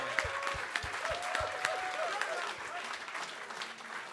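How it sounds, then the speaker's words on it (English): An audience at an NFL draft event breaks into sustained applause, a dense wash of clapping with some crowd noise, loud and steady throughout and tapering slightly toward the end. "Everybody give it a round for Ran one more time."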